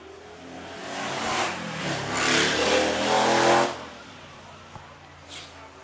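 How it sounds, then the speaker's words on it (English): A motorcycle passing by near a high school football game, its engine swelling from a distance to a loud, roaring pass, then fading away over several seconds. "Sounds like a nice motorcycle going by in that situation right there."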